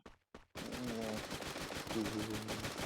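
Rapid bursts of gunfire in the Free Fire video game ring out loud and close, layered over continuous game audio with a brief near-silence at the start.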